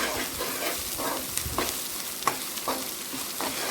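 Coriander and cumin powder fry in hot oil for paneer bhurji with a continuous bright sizzle, while a spoon stirs and scrapes the pan in repeated strokes close by.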